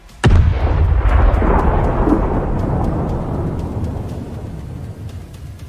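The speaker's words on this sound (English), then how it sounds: "HIMARS wastes no time and opens fire. A precise hit turns Russian air defense into fireworks." A single sharp, heavy blast from a HIMARS rocket strike hitting a Russian air defense position, loud and close, followed by a long rolling rumble that slowly fades over several seconds with scattered faint crackles.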